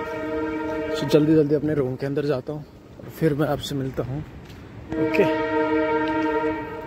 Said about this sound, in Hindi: और ये पीछे ट्रेन की आवाज़ आ रही है।